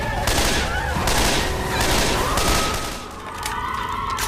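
Gunfire in Left 4 Dead cracks out in several loud bursts of rapid shots separated by short pauses, with game ambience and faint tonal effects underneath.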